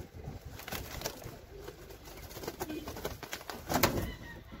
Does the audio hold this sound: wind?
no